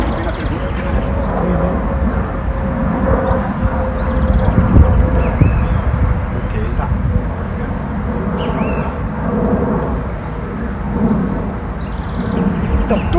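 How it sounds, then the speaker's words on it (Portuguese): A commercial airplane passes overhead as a steady distant roar beneath someone talking throughout. "um avião como esse que está passando aí"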